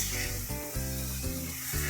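Spinach and potato sabzi sizzling in a pan as it is stir-fried, a steady close frying hiss broken by short scraping stirs.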